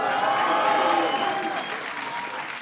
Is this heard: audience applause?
yes